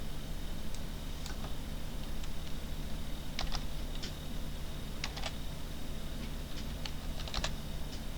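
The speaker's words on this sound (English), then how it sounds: "I could probably type it in here." Scattered keystrokes on a computer keyboard tap faintly over a steady hiss, a few isolated clicks then small quick clusters, no talk.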